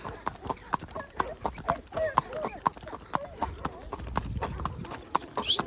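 Horses' hooves clop in a steady, even walking rhythm, close and crisp, with a person speaking quietly at times.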